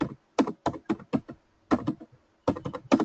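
Keys clatter on a computer keyboard as a command is typed, about a dozen quick taps in uneven clusters with a short pause midway, close and fairly crisp.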